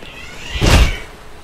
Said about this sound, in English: That's a cat screeching outside.